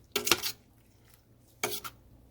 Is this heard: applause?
no